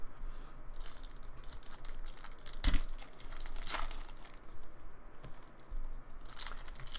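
Foil card packs from a Diamond Kings box are torn and crinkled open one after another, steady close rustling with a few sharper rips, no talk.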